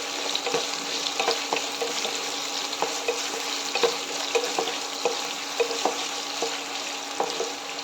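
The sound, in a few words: sliced garlic being added to pan and fried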